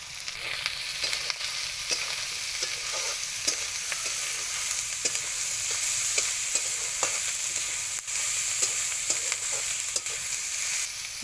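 Onions frying with ginger-garlic paste in a pan for a shrimp and bottle gourd dish with egg, a steady close sizzle with scattered stirring scrapes running throughout.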